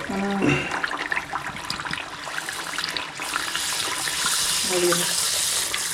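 Kajjaya dough balls frying in hot oil over a medium flame, giving a steady, dense hiss and crackle that swells as each piece goes in, with brief voices speaking over it.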